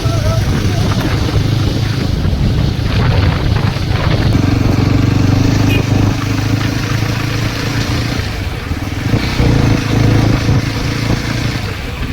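A motorcycle engine runs steadily and loudly up close for the whole stretch, with a deep, even drone that shifts only slightly, as if riding along a road.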